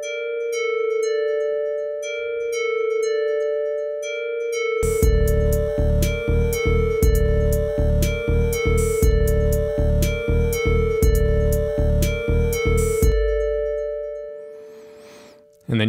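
An 8-bit synth with a delay effect in the Caustic music app plays sustained bright tones alone, then a full sequenced pattern with punchy beats joins in for most of the clip before it stops abruptly.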